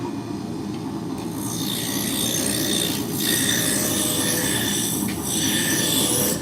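Lathe spinning at its maximum speed of 3,629 RPM, giving a loud continuous rasping, grinding whir. Steady high-pitched machining tones sit over a rough rumble, with no talk.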